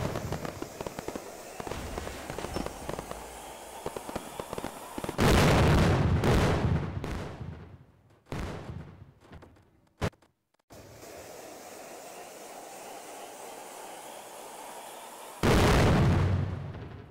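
Video game firecrackers for Diwali: loud blasts and crackling bursts, several in quick succession, with sharp cracks and rumbling pops, no talking.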